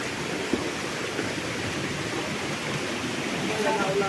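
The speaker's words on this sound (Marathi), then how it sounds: "समोर आपला धबधबा आहे" Waterfall in Konkan, a steady broad rush of falling water filling the scene, close and constant, heard from the riverbed in front of the falls.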